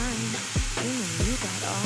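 Mushrooms are stirred into masala spices frying in a pan, giving a continuous sizzling hiss broken by a few short scraping stirs, with steady tonal sounds running underneath.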